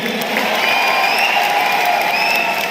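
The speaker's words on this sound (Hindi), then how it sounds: "हमें ताली बजा दो" A large crowd at a Janmashtami stadium event in Delhi claps and cheers in a dense, loud, continuous roar, with faint whistles rising over the applause.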